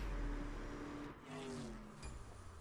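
Jeep Grand Cherokee Trackhawk roaring down a drag strip in CSR Racing 2 with nitrous engaged, a loud steady engine drone with a short pitch shift midway as it surges on, heard alone.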